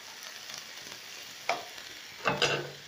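Meat for iskender frying slowly in a pan, a quiet continuous sizzle with two short louder crackles and spatters toward the end, no voices.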